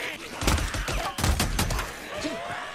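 Bursts of rapid gunfire in the Days Gone video game, several clustered volleys crackling close and loud over a few seconds amid game noise.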